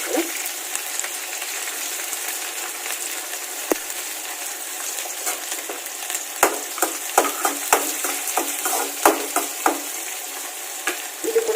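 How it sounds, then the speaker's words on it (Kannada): Green chillies and onion frying in a pan for a simple home thali, a loud continuous sizzle with repeated scraping stir strokes that grow more frequent in the second half, no voices. "ಹಸಿಮೆಣಸಿನಕಾಯಿ ಸ್ವಲ್ಪ ಬೇಯಿಸ್ಕೋಬೇಕು ಇದರಲ್ಲಿ ಫ್ರೈ ಆಗಿ ನೆಕ್ಸ್ಟ್ ಈರುಳ್ಳಿ"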